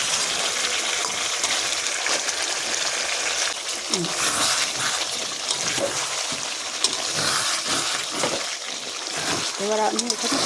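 Water goes into a pan of coriander chicken curry, giving a loud hissing, splashy sizzle that rushes on steadily, with a voice speaking over it at times.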